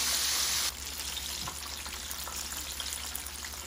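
Chicken frying in a pan gives a steady, bright sizzle, loudest in the first moments and then settling into a softer crackle with occasional pops.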